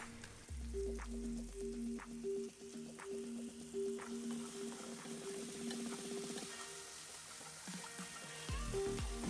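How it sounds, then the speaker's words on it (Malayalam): A whole cut tomato sautés in a pan for moru curry, a soft steady sizzle with scraping and stirring clatter, alongside a faint intermittent beeping tone. "അതിലേക്ക് ഞാനൊരു ഫുൾ തക്കാളി തേങ്ങനെ കട്ട് ചെയ്ത് ഇട്ട് നന്നായിട്ട് വഴറ്റുന്നുണ്ടേ"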